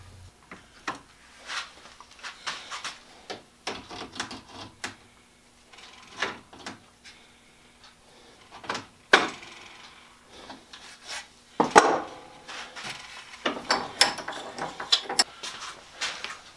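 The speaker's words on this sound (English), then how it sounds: "I'm going to straighten it out with a pair of pliers real quick" Pliers bending a bent corner of a metal door threshold straight, heard as scattered close scrapes, clicks and rasping metal contacts in short bursts with quiet gaps, no talking.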